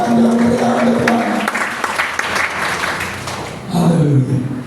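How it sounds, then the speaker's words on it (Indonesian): Applause from a church congregation at a Christmas service rises under a speaker's voice, with dense clapping that swells and fades over a few seconds. "Berikan tepuk tangan yang meriah untuk Tuhan."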